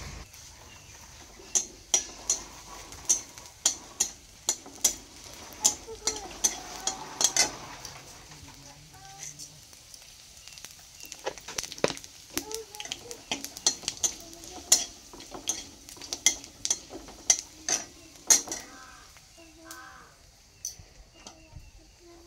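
Panch phoron spices crackle and sizzle in hot oil in a home kitchen pan, with a run of sharp popping clicks and light stirring scrapes close by, steady hiss underneath.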